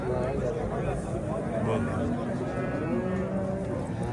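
Cattle lowing amid the bustle of the Piskent livestock market, with drawn-out moos rising over a steady crowd hubbub and nearby voices talking throughout.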